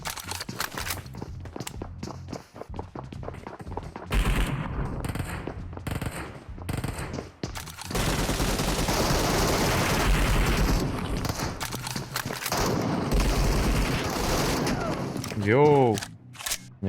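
Gunfire rings out in the PUBG Metro Royale mode: rapid automatic bursts and single shots that start sparse, then merge into a long, loud, dense stretch of firing. Footsteps and movement mix in, and a voice speaks briefly near the end.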